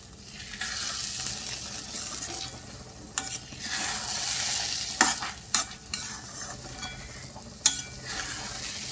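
Sweet semolina sheera being stirred in a pan with cardamom powder, a steady scraping stir over a soft sizzle with a few sharper clinks of the spoon against the pan.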